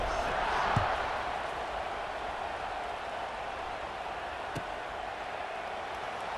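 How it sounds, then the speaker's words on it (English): A stadium crowd in a college football video game roars in a broad, steady wash of cheering noise, with a couple of faint thuds. "this crowd is feeling themselves after that last drive"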